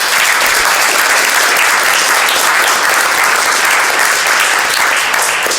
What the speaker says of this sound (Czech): velký potlesk pro Michaelu